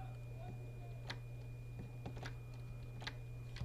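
Keys on a computer keyboard are struck in sparse, irregular clicks, several distinct taps spread out over a steady electrical hum, fairly faint and close.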